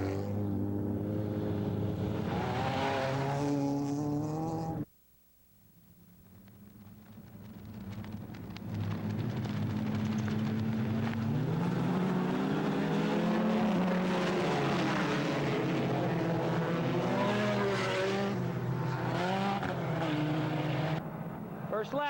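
Race cars coming around on the first lap, engines roaring loudly with shifting revving tones, one pass cutting off briefly before more cars build back up, under a commentator's voice.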